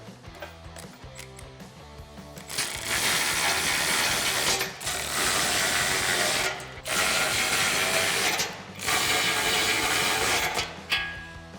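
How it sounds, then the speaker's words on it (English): A nylock nut on a Jeep Wrangler JK rear bumper tire carrier tightened with a 19mm socket and ratchet wrench, loud rapid ratcheting clicks in several long bursts with brief pauses between. "we're gonna use 19mm socket and wrench to tighten that down"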